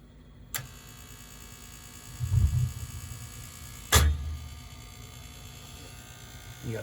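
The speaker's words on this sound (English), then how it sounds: "The gas valve shouldn't be making that noise, but it is." A faulty gas valve on a home heating boiler opens in several stages, giving two sharp clicks and low muffled thuds over a steady electrical hum, moderately quiet and without speech.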